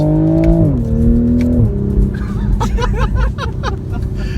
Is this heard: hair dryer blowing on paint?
no